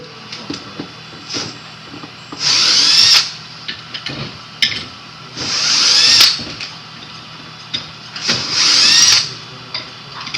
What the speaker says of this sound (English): So screws coming out of here.